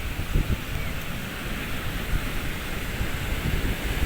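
Big surf about six feet high pounds and draws back along a beach shore, a steady roaring wash of moderate level with a gusty rumble underneath and no voices.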